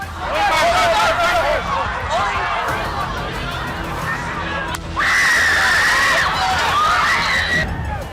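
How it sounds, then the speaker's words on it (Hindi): A crowd at a political rally screams and shouts after gunfire, a dense, loud wall of overlapping cries and yelling that swells into sustained high-pitched screams partway through. "ट्रंप के नीचे गिरते ही रैली में चीख पुकार मच गई।"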